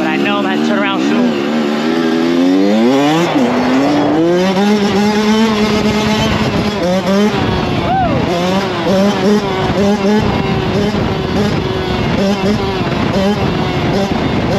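A dirt bike ridden on the street, its engine close and loud, revving and shifting with rising and falling pitch throughout, with wind rush and a rider's voice over the engine.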